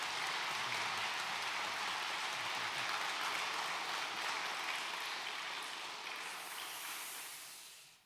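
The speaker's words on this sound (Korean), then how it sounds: "또 한 번 우리 박수 한번 해주시면 감사하겠습니다" A church congregation gives a dense round of applause at a Korean thanksgiving service, steady for several seconds and then tapering off at the end.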